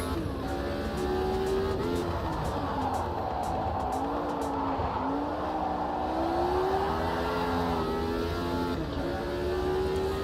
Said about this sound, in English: This car quite likes rolling into that last corner.